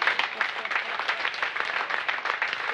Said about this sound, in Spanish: les pido un aplauso de homenaje a todos los radiodifusores truchos